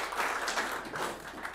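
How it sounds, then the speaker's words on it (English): Brief, light clapping from a small group in a county commission meeting room, a short uneven patter lasting under two seconds. "Applause to them."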